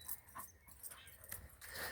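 Dog whimpering during a beach walk: a few short, high, thin whines and yips in quick succession, fairly faint against the open outdoor air.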